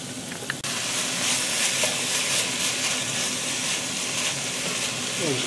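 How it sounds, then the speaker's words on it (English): Thinly sliced sweet onion sautés in chorizo grease, a steady close sizzle and hiss that jumps up suddenly after a quiet half-second and then holds level throughout, with faint clinks of stirring. "We're going to saute this down."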